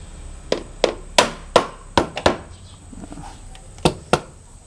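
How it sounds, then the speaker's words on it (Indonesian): A rubber mallet taps a Kia Rio engine valve cover to loosen it, giving about ten sharp, close knocks in irregular bursts, some in quick pairs, with no talking. "Agak berat ya tadi ya, kita perlu sedikit pukul menggunakan palu karet."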